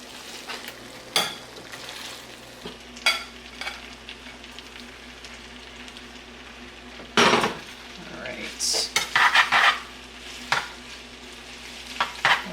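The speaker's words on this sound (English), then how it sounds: "Now we're going to go ahead and take our meatballs and just put those back in, nestle them in" Meatballs nestled back into a pan of linguine al limone, with clinks of a utensil against the pan, stirring scrapes and a soft sizzle, close and without talk.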